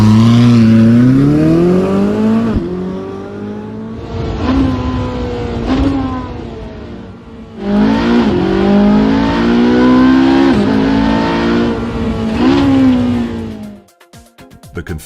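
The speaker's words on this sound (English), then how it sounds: "The position of the tailpipes lends the V8 the full-bodied, low-frequency soundtrack typical of Ferrari's sportiest engines." A Ferrari 458 Speciale V8 engine revs hard and loud, several long rising and falling pulls through the gears with brief gaps between them, full-bodied and close, ending in a sudden cut.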